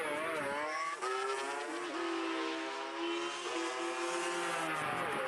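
Drag racing motorcycles, a Yamaha RD400 and a Kawasaki H2 750 two-stroke, screaming at high revs with rising and falling engine tones and quick gear-change dips, loud and continuous with no talk.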